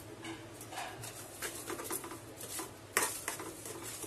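A spoon stirs sugar and crushed cardamom into a barfi mixture in a pan, making quiet, irregular scraping and light clinking sounds with a slightly louder knock near the end.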